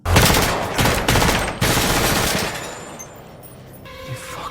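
Rapid bursts of gunfire in an action film shootout, a loud close volley of shots that cuts off and gives way to quieter ambience with a faint later crack.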